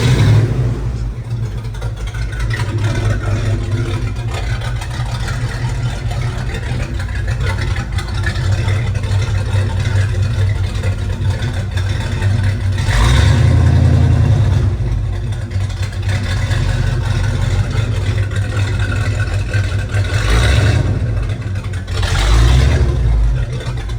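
A 1982 Ford Bronco XLT engine runs steadily after a cold start, a loud continuous low rumble with a brief rise in revs around the middle and again near the end as the pedal is tapped, with faint talk.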